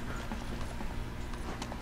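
Steady hoof clip-clop of a horse moving at an even pace in the game Metal Gear Solid V: The Phantom Pain, set against a constant low background hum.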